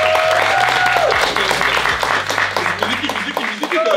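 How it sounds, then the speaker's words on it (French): Loud crowd applause fills the room, with a voice speaking over it and some musical tones sounding at the start and end. "S'il vous plaît, on applaudit."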